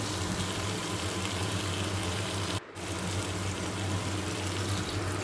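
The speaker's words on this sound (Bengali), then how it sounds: "এখন এর মধ্যে গরম জল দিয়ে দিলাম" Hot water poured into a pan of spice mix with paneer pieces, a steady low gushing flow that runs almost unbroken, with one brief dip, and no voices.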